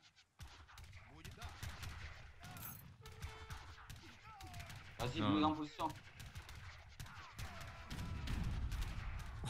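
Cannon and gunfire crackle in a 3v3 Age of Empires III battle, with irregular bursts of shots and mechanical clatter and a louder volley midway, while someone speaks French over the action.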